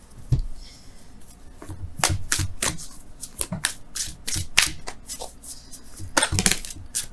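Wisdom of the Oracle cards are shuffled by hand at close range, a run of quick papery riffles, slaps and rubs in an irregular rhythm, fairly quiet.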